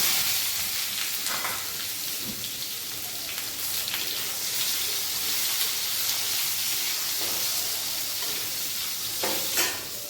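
Potato and tomato sizzle together in a pan for chingri potol dorma, a steady close frying hiss with occasional stirring scrapes.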